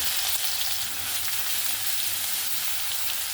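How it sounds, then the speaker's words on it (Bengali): Crushed garlic frying in oil with already-fried panch phoron in a pan for a morola fish curry: a steady, dense sizzle and crackle throughout, close and even, with no talking. "রসুনটাকেও একটু লাল লাল করে সুন্দর করে ভেজে নিই"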